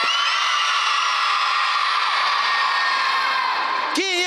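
A crowd of children at a charity foundation event shouting and cheering together in a loud, sustained roar that breaks off abruptly near the end.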